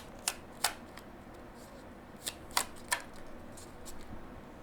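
Tarot cards being handled and shuffled during a reading, heard as a few sharp, quiet snaps and riffles spaced irregularly over a hushed room, with no talking.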